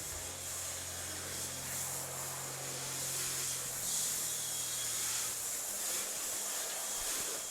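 Water sprays and floods across a screen-printing screen to rinse off dehazer, a steady close hiss that runs without a break over a low machine hum, no talking.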